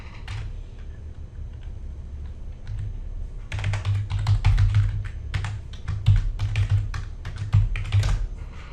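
Keys clatter on a computer keyboard as a username and password are entered, starting with a few scattered taps and then quick bursts of typing close by, over a low background hum.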